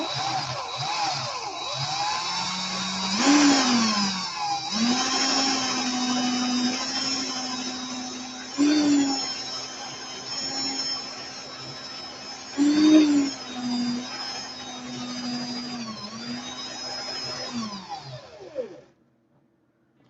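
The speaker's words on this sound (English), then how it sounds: "I'm twisting the drill in the reverse." A power drill runs in reverse, twisting coil wire in a slow steady whine that rises and dips in several surges over about eighteen seconds before winding down and stopping, close and alone.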